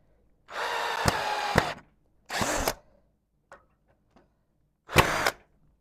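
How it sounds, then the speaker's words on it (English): Power drill driving screws into wood while building a backyard project, three separate bursts of whirring close up, with two faint clicks between them. "I will get Adrian to countersink these later, but this will work for me."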